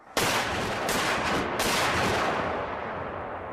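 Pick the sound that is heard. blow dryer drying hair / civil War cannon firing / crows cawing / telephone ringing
civil War cannon firing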